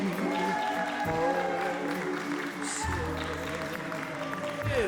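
Guests at a wedding reception clap to welcome members of the wedding party; steady clapping runs throughout beneath tonal music, with the clapping thinning briefly a couple of times.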